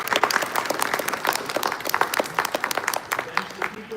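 An audience at a convention panel applauds together, a steady dense patter of many hands clapping that fills the room for several seconds, close and lively, with no talking heard over it.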